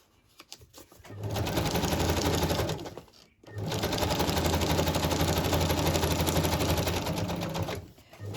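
A sewing machine sews a back stitch, running in two steady, close, whirring bursts of rapid needle clatter. A short pause separates them, and small handling noises come before and after.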